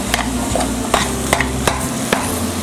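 Beef mince and vegetables fry in a pan, a steady close sizzle punctuated by regular scraping stirs of a utensil against the pan, with no talking.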